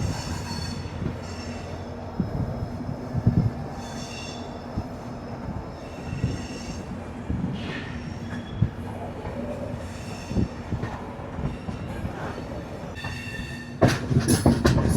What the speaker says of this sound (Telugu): ఎస్ఎంవిబి నుంచి కొద్దిగా ముందుకు రావాలని మన ట్రైన్ కరువు కొడుతుంది